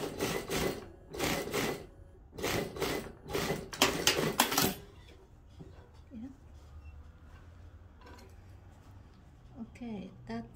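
A sewing machine stitches a skirt waistband along the old stitching in short, close, rattling bursts, with quieter handling and faint talk afterward.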